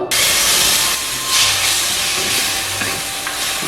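Tamarind water for tomato-pepper rasam is poured into a hot pot and hisses loudly. A steady, close sizzle and steam rush lasts the whole time, with no one talking.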